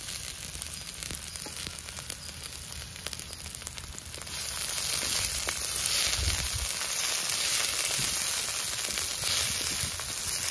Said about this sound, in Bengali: এবার আমি পেঁয়াজটা ঢেলে দেবো।